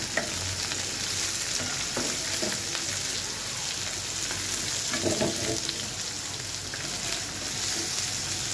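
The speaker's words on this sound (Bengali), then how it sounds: "তো এখন আমি পেঁয়াজটাকে একটু ভেজে নিব।" Onions sizzle and fry steadily in hot oil for a rohu fish belly curry, a dense continuous crackle with occasional stirring scrapes, close and fairly loud, with no talking.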